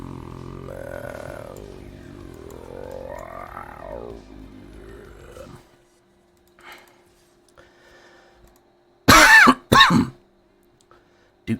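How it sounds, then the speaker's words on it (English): A person who is sick coughs and clears the throat in two sharp, loud bursts close to the mic, following a stretch of quiet talk and near-silence. "Sorry for the coughing, guys."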